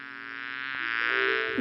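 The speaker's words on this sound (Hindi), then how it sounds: "तभी एक मधुमक्खी अंदर आई। ऑलस ने उसे मंडराते हुए देखा।" A bee hovers close by with a steady, tonal buzz that shifts slightly in pitch as it moves, growing a little louder toward the end and heard alone without voices.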